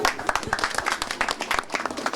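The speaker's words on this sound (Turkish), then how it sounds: "Arkadaşlar kurtuldu alkışlıyoruz" Students at a first-aid training session break into brief, scattered clapping of moderate loudness, with voices mixed in.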